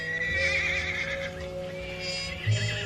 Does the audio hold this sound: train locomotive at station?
no